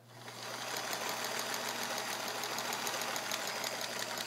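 Kenmore 1430 all-metal sewing machine made in Japan running at a steady slow pace, a continuous mechanical whir with a low motor hum and a fine repeating rattle of the needle mechanism, close and moderately loud with no talking.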